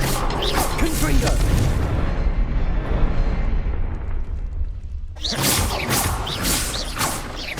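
Confringo fire-spell blasts in the Hogwarts Legacy video game: a dense, loud run of explosive bursts and whooshes that fades into a quieter stretch, then a fresh burst of blasts erupts near the end.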